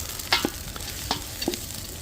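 Onions frying in a pot over an outdoor cooking fire for Hungarian goulash, a steady soft sizzle with a few sharp stirring scrapes and clinks, close and alone without talk.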